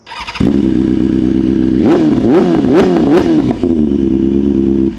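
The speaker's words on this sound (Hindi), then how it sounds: "वैसे गाड़ी को स्टार्ट कर लेता हूँ, फुल सिस्टम ना सुनाऊँ तब तक यार मेरा भी मन नहीं मानता" A BMW S1000RR superbike with a full exhaust system fires up and settles into a loud, close idle, then is blipped through several sharp revs before dropping back to a steady rumble.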